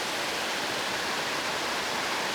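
Scaleber Force, a Yorkshire waterfall, roars as a steady broadband rush of falling water, close and continuous with no voices.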